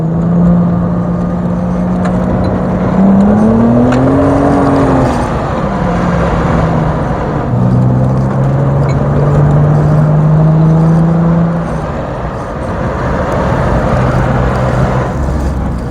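An MG ZS 180 accelerates hard from inside the cabin, its engine note climbing in rising whines, dipping at a gear change, then rising again under steady road and wind roar.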